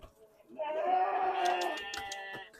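A goat at an Indonesian Qurban sacrificial livestock sale lets out one long, wavering bleat at close range, with people talking around it.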